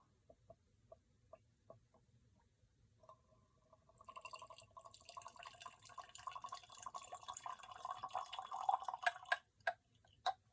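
Thin drips come first, then a steady trickling stream of 100-proof liquor pours through an aerator, bubbling and gurgling close by, and a few last drips fall at the end, with no voices.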